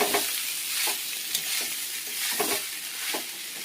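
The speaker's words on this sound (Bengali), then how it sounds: "এবার ভাতগুলো ভালো করে সবজির সঙ্গে মিশিয়ে নেব।" Leftover cooked rice is stirred with vegetables in a hot frying pan, a steady sizzle broken by rhythmic scraping strokes of the spatula about once every half second, close and loud with no voices.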